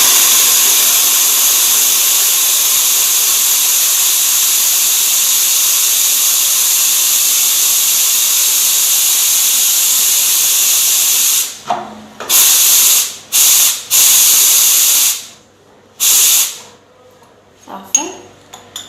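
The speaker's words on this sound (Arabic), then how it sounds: "اول حاجه غادي نديرها هو اننا نخرجوا داك الماء اللي كاين هنايا في الفابور" An espresso machine's steam wand purges water before milk is steamed, a loud, steady high hiss lasting about eleven seconds, then cut into several short bursts that stop and restart.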